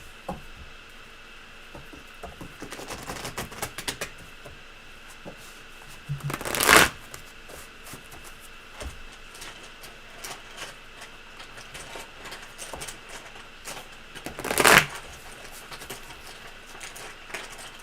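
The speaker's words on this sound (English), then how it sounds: "I'm just going to shuffle it a little bit more" A tarot deck shuffled by hand, soft papery riffling throughout with two louder, sharp riffle bursts spaced several seconds apart, close and quiet, no talking.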